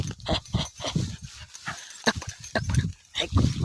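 A pet dog named Sweety making short, excited whimpering and snorting vocal bursts close to the mic, uneven and choppy across a few seconds.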